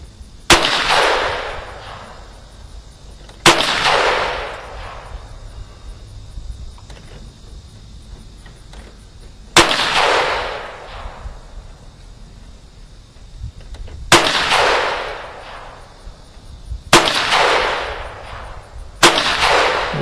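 Ruger LC9 pistol firing USA ammo outdoors, with six sharp, loud shots spaced irregularly a few seconds apart, each followed by a short decaying echo over quiet background insect chirping.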